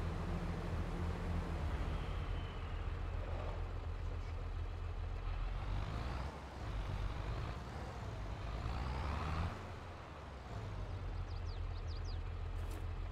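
In Farming Simulator 22, a tractor pulling a trailer drives along with a steady low engine drone and road rumble, its pitch swelling and easing slightly throughout.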